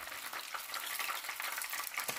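Shrimp fry in a pan with a steady, close, bright sizzle and crackle, heard alone without talking.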